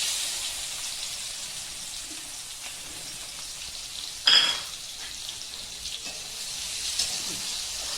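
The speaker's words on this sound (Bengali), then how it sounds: "তেলের মধ্যে দিয়ে দেবো পেঁয়াজ কুচি।" Chopped onion drops into oil left over from frying eggs and crackles in a soft, steady sizzle, with one brief louder burst of spattering partway through.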